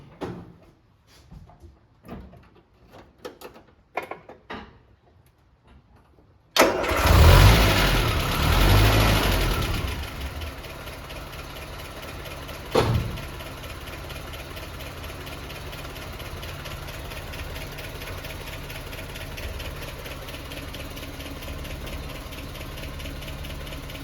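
A Land Rover Series 3 engine cranks and catches with a loud burst, revs briefly, then settles into a steady, smooth idle that runs on with one small blip partway through; faint clicks and handling noises come before the start.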